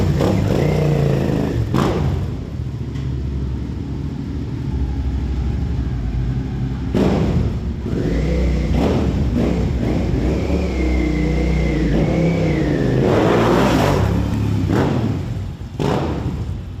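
A 2003 Suzuki SV650 motorcycle engine rumbles nearby, then revs up in several rising surges with a few thumps as the bike rides off.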